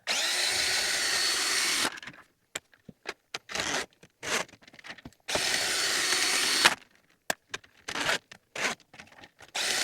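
A power drill, driving a cable to clear a slow drain, runs in several loud, close bursts: two long whirring runs of a couple of seconds each and many short stop-start pulses with quiet gaps between.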